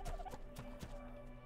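A partridge creature calling in the video game Ark Survival Evolved: a few quick, gobbling clucks in a short burst, close and fairly clear over a faint hum.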